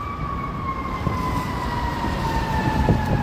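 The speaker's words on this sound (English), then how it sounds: "Here comes sirens." Emergency vehicle siren wails on a Chicago city street, a steady tone sliding slowly lower over a rumble of traffic, moderately loud and close.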